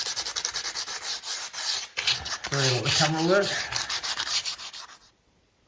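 Fine sandpaper rubbed over filler on plaster coving in quick repeated back-and-forth strokes, close and steady, with a voice speaking briefly midway before the scraping stops.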